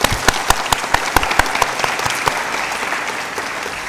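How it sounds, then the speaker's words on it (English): Audience at a Year 13 school graduation ceremony applauding, a dense burst of clapping from a large crowd in a hall, steady at first and tapering off toward the end. "can we show our appreciation again by giving a well-deserved round of applause?"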